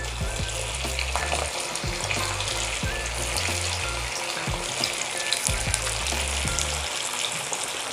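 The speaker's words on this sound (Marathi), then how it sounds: "अशा प्रकारे आपण बाकीचे पण वडे तळून घेऊ." Sabudana vada deep-frying in hot oil, a steady dense crackling sizzle with low bubbling pops, close and continuous throughout without any speech.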